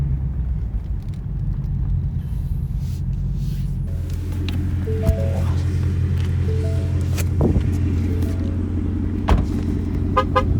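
A Ford Mustang Mach 1 with an H-pipe exhaust rolls slowly while parking, its steady low engine rumble constant throughout, with a brief horn-like toot and faint traffic sounds around it.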